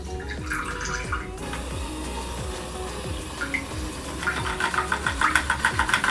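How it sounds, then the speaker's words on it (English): Water draining out of a small beauty blender washing machine, a steady trickling rush over a low motor hum with regular knocking pulses, growing louder and more splashy in the last seconds. "I'm gonna drain some water out."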